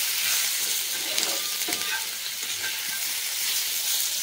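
Mixed vegetables fry in a home kitchen pan, giving a steady, close, bright sizzle that runs without break, with faint stirring scrapes now and then.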